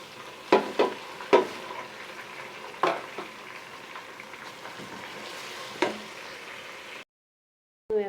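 Carrot and tomato frying with onion in a pan for spaghetti sauce, a soft steady sizzle broken by a few clacks of stirring, ending abruptly.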